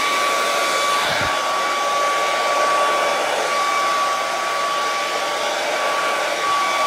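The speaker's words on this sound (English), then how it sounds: "don't touch the canvas with your hairdryer like I'm doing." A hair dryer blows steadily and loudly on wet acrylic pour paint across a canvas, giving a constant whooshing roar with a faint whine, and no voices over it.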